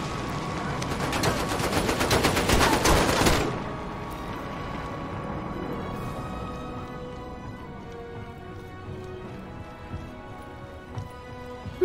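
Rapid machine-gun fire in the VR shooter Medal of Honor: Above & Beyond, a loud dense burst for about three seconds, then fading into a low rumbling ambience with scattered faint pops.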